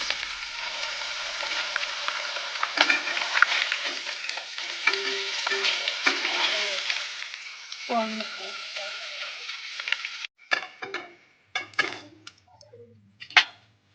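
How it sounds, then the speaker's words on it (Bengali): Catla fish frying in hot oil, a steady dense sizzle with stirring for about ten seconds, then the sizzle drops away into scattered clinks and short kitchen noises. "মাছটা প্রায় ভাজা হয়ে গেছে"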